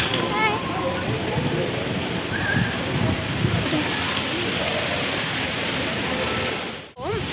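Heavy rain pours steadily onto surfaces outside a mall, a dense continuous wash of drops close by, with a voice talking over it.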